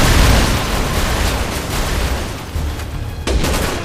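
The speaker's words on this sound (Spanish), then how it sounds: "Buen disparo, Pierce" Rapid gunfire and booming blasts in Resident Evil 6, a dense, chaotic barrage, with several sharp cracks standing out near the end.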